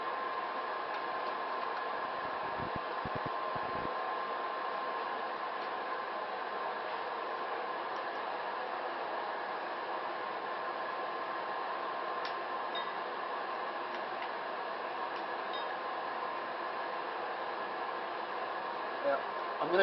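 A forge heats a double bevel hunter knife blade for heat treatment, giving off a steady, constant roar of burner noise that holds at an even level from start to finish, with a few faint ticks and clicks.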